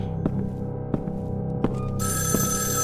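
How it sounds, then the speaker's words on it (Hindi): An old telephone rings inside the horror video game Evil Inside, a steady electronic bell tone sounding over a low, droning game ambience with occasional thuds. "फोन बजा।"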